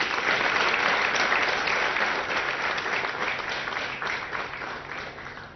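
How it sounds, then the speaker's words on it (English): Dense, loud audience applause fills a ceremony marking delivery of the 100th Apache helicopter fuselage from the Tata Boeing facility, sustained throughout and easing slightly toward the end. "A big round of applause to all of you."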